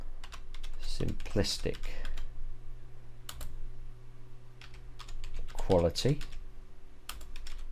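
Typing on a computer keyboard to enter a product description, a quick run of light key clicks, close-up, with a person speaking briefly over it.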